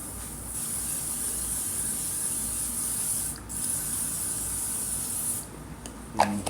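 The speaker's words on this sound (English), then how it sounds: "I'm going to spray olive oil on my face." Olive oil sprayed onto a face as a steady, close hissing mist that runs for several seconds, breaks briefly, then resumes before a few faint clicks and rustles at the end.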